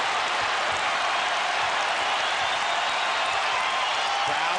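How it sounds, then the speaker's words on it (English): A basketball arena crowd at a Wizards versus Bulls game roars and applauds in a dense, loud, continuous wash of cheering, with an announcer's voice under it. "Crowd comes to their feet."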